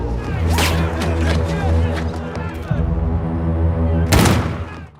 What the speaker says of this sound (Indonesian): meminta agen Memphis untuk membuat keributan dengan menembaki mereka